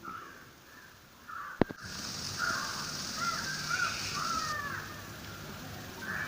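Crows cawing around a home, a few fairly faint calls over soft outdoor ambience, with a sharp knock near the start and a steady hiss behind.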